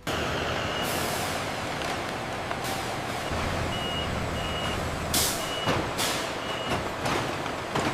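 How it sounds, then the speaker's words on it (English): Refrigerated cargo truck with air brakes on a modern highway: continuous loud engine and road rumble, a repeating reversing beep, and sharp bursts of air-brake hiss near the end. "Refrigerated cargo trucks travel across modern highways."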